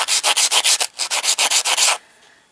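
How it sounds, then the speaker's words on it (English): Rapid rhythmic scratchy rubbing strokes of a sanding sponge on pottery edges, about a dozen in quick succession with a short pause midway, loud and close, ending abruptly in quiet. "I'm sanding with this sanding sponge,"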